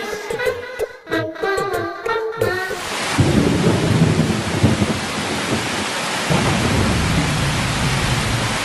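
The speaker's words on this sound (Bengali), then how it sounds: "দেখো কি জোরে বৃষ্টি শুরু হয়েছে" A heavy monsoon downpour begins as a dense, steady hiss of rain, loud and close after a few seconds of voice at the start. Thunder is not clearly distinct.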